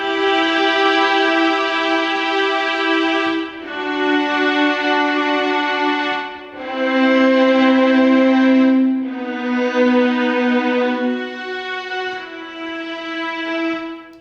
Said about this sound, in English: that sound that you're hearing is the sound of 16 violinists playing together